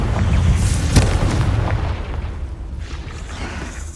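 A Confringo fire spell blast in Hogwarts Legacy, loud and rumbling, with a sharp crack near the start, then a booming roar that fades over a few seconds.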